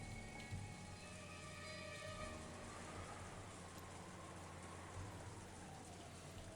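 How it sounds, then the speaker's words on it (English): Steady rain from a visual novel game's ambience, falling continuously outside a dining hall, a soft even hiss with faint tonal hum beneath, quiet and unbroken throughout with no voices. "granting no respite from the intrusive sound of rain that was creeping into the dining hall"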